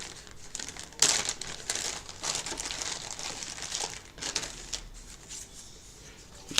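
A plastic bag holding a set of old trading cards crinkles and crackles close by, in irregular bursts of handling with a sharp rustle near the start and softer shuffling after.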